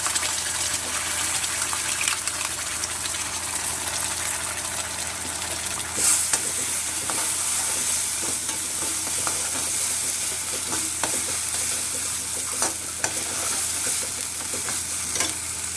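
Ground onion-garlic masala sizzles steadily in a hot pan while being stirred, with scraping spoon strokes over continuous frying hiss, close and fairly loud for a drumstick curry.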